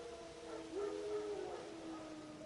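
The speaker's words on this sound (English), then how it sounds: "Wild dogs." Wild dogs howl in The Witcher 3, a drawn-out, wavering howl rising faintly above a steady wilderness background, with no talk over it.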